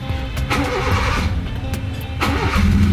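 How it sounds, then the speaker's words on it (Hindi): A car engine cranks and catches, loud and close, with a couple of bursts as it starts and settles into a steady idle. "ये गाड़ी मैंने स्टार्ट की"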